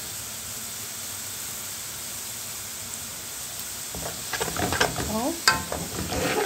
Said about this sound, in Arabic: نبدأ برضو نحمر بقية البصل